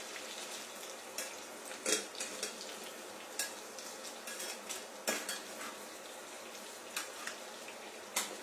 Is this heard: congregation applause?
no